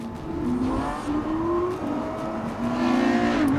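A McLaren sports car engine revs and accelerates, its rising whine shifting through gears, loud and close, with no talking.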